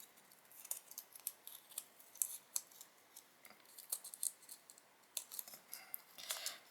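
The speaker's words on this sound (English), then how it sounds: "come around with your scissors, not your really decent scissors, and just trim off anything on that" Scissors trimming excess material from a doll shoe board, a steady series of crisp snips and clicks close up, irregularly spaced over several seconds with no voices.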